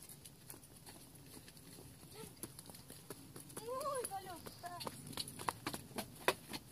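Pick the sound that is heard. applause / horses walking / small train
horses walking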